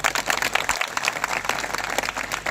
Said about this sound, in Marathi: टाळ्या वाजवा एकदा.